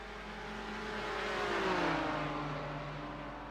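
A BMW race car in a sim racing game at Atlanta Motor Speedway, its engine a steady droning whine that swells as it closes in around 2 seconds and then fades slightly, with other car engines humming underneath.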